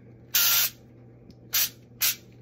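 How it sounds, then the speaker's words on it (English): Olive oil spray hisses onto a foil-lined pan in three short bursts: one longer spray, a pause, then two quick puffs against a quiet background hum. "I forgot to spray a little bit of olive oil on the pan"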